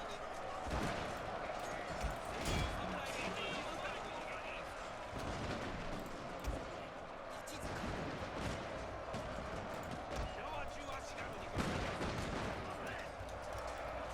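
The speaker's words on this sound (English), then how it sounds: "Point blank shotguns." Shotgun troops firing at point blank in Shogun 2 Total War, a dense clatter of gunfire volleys and battle din running throughout, with a commander's voice shouting orders over it.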